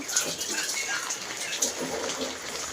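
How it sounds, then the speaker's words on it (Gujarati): Monsoon rainwater pours down the wall of a house, a steady, moderately quiet splashing and trickling wash that continues without pause. "અહીં આખી દિવાલથી પાણી પડે છે"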